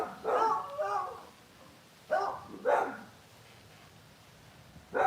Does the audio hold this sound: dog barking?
yes